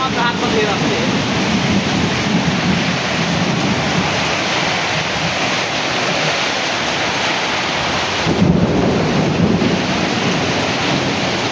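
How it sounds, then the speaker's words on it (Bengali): Heavy rain pours down in a steady, dense roar, with low thunder rumbling beneath it and a stronger swell of rumble late on. "বৃষ্টিও হচ্ছে, বেকায়দা বৃষ্টি হচ্ছে।"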